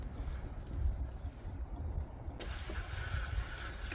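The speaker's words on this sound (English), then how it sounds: "We're just going to get the hose and rinse out that coolant." A water hose rinsing coolant out of a Buick 3.8 engine during a valve cover gasket job, a steady, close hiss of spraying water that grows brighter and louder partway through.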